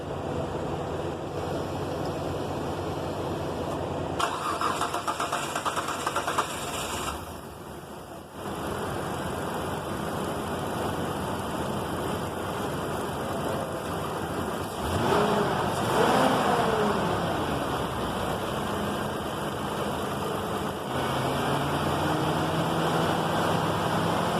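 A 2017 Mitsubishi Pajero engine, just back together after intake manifold work for a misfire, runs at a steady idle with broadband noise throughout, a brief dip and a slight rise in level partway, no talking.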